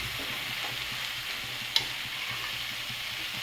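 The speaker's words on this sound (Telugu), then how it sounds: "టమాటా కూడా ఇలా అంతా మెత్తగా మగ్గుతుందండి" Green chillies and tomatoes softening in a pan for a chutney, a steady low sizzle that carries on evenly throughout, with one brief sharp clink partway through.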